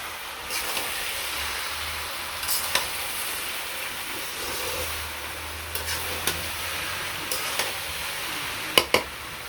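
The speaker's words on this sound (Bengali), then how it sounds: "এখন যে সরিষার সম্বার দিলাম।" Mustard seeds for tempering sizzle faintly in hot oil in a wok for a village puja meal, a soft steady frying hiss broken by a few light clicks and pops.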